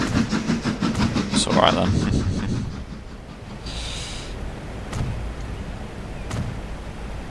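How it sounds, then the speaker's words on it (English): Trains in the Transport Fever 2 game rumble and clatter along a West Coast Main Line with rhythmic clicking, loudest at first and then settling into a steadier rolling hum, with a brief hiss; someone speaks briefly. "I feel like I keep following this train, it keeps appearing."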